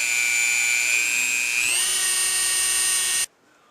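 A Dremel rotary tool head spins at high speed against a firearm receiver, working polishing compound into the metal: a steady, loud whine whose pitch shifts and drops partway through, then cuts off abruptly near the end.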